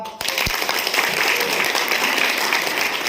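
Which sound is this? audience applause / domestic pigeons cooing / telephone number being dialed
audience applause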